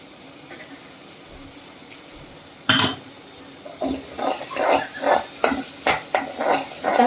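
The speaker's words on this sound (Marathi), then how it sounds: "आता हा मसाला मी छान परतून घेणार" Masala sautéed in oil in a pan for a toor dal and drumstick dish: quiet at first, then a sharp clang and a run of rhythmic spatula scrapes against the pan over a faint sizzle.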